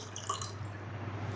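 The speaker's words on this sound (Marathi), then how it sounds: "त्यासाठी इथे केटलमध्ये मी पाणी ओतून घेतेय" Water pours into an electric kettle in a home kitchen, a soft continuous trickle and splash at a low, even level with no voices over it.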